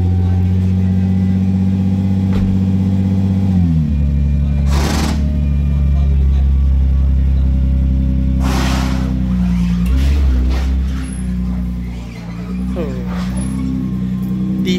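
A Honda NSX T-Spec engine droning loud and close, its low steady tone shifting pitch as it revs up and settles, with brief speech bursts over it.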